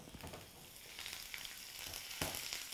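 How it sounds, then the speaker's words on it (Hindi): Cumin seeds and curry leaves sizzle in hot oil for a Hindi-style tempering, a steady close crackle with a few brighter bursts and no voices. "थोड़ा सा जीरा छोंकना है इसमें ज़रा सा कड़ी पत्ता"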